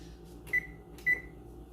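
Two short electronic beeps from an oven control panel as it is set to preheat to 350, about half a second apart, over a quiet background hum.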